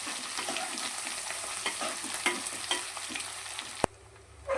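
Dry fish frying in a pan with a continuous close sizzle and repeated stirring scrapes, ending in a sharp knock before the sound drops away.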